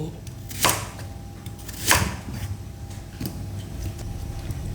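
A knife cuts through peeled carrots on a board, two sharp chops and a lighter one, spaced apart over a low background hum.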